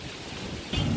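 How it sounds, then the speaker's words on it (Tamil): Strong gusty wind blowing outdoors ahead of rain at the start of the rainy season, a broad rushing roar against the microphone that swells louder near the end. "பயங்கரமாக காற்று அடிக்குது, மழை பெய்ய போகுது"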